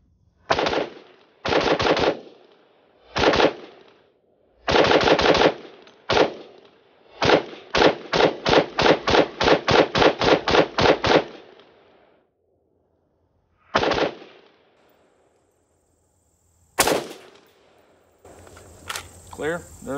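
Rifle fire with Winchester 5.56 55 grain FMJ ammunition, loud close shots first in small bursts and then a rapid, even string of about a dozen, followed by a lone shot and a metallic clatter.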